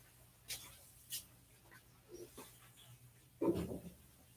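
A matted maltipoo being groomed and washed makes a few faint, brief dog sounds, small whimpers and a short louder whine near the end, amid quiet room noise.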